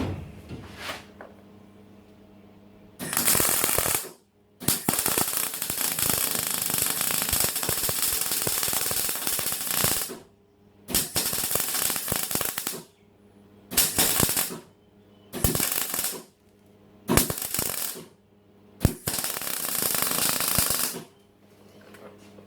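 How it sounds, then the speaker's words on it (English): Welding new steel cross members onto a boat trailer, loud crackling arc bursts in several runs of varying length, from long stretches to short tacks, separated by quiet gaps. "let's get this bit welded up"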